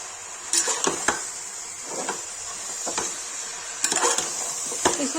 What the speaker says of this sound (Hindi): प्याज भून गया, इसमें चिकन डाल देंगे